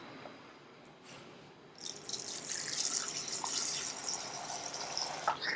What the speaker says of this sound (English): fill it in with cold water